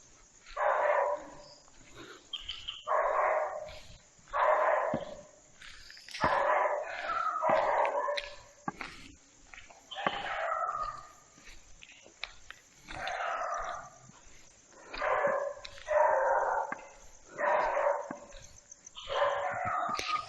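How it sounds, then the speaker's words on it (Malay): Puppy barking inside an old, long-abandoned warehouse, giving a string of high yips and barks in regular bursts about every second or two, fairly close, with no talk over them. "Rupanya anak anjing."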